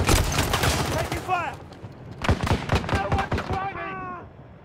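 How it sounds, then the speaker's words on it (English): Gunfire in a Battlefield 2042 Rush match on the Africa Harbor map comes in bursts of sharp rapid shots under loud shouted in-game voices, with a brief lull in the middle before another volley. "Taking incoming fire!"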